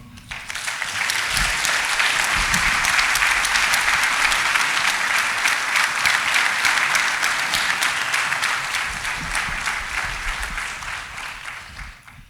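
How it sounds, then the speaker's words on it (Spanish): Church congregation applauding steadily for about twelve seconds, a dense, sustained wash of clapping that swells early, holds loud and tapers off at the end, with no talking over it. "Démosle un aplauso al Señor."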